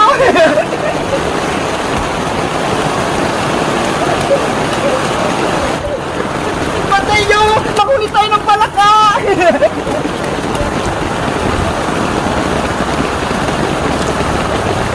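Heavy rain pours down in a constant hiss, loud and close, while children shout and call out over it.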